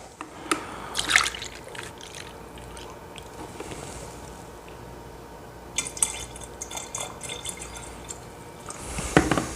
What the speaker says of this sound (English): now we're going to be filling the tank with 1 capful of Hoover Clean Plus 2X carpet cleaning detergent